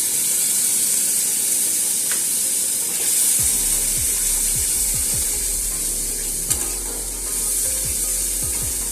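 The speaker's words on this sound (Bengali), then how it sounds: "আদা রসুনের পেস্টটা আমার কষানো হয়ে গেছে। এবারে আমি দিয়ে দেব ভিজিয়ে রাখা মশলাটা।" Soaked spice paste is added to ginger-garlic paste already fried in a pan for a dish of flat green bean seeds, giving a steady close sizzle with repeated scraping and stirring strokes, and no voices.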